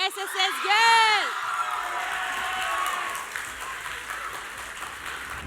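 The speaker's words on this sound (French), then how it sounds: "mettez-les ensemble, applaudis bien fort pour Forestside SSS Girls" A crowd at a school debate semi-final applauds and cheers for a girls' team, the clapping swelling after a presenter's voice and a whoop, then holding steady and loud.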